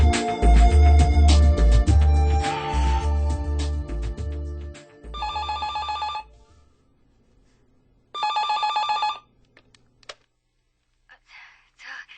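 A telephone rings in two short electronic bursts separated by a pause. Before them, a dense stretch of clattering and tapping plays, and faint room sounds follow.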